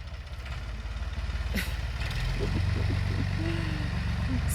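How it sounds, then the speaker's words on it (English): A tractor engine rumbles steadily nearby as it drives through a gate into a neighbouring garden, a low continuous drone with some faint clanks and brief voices in the background. "Here comes Mark in his tractor"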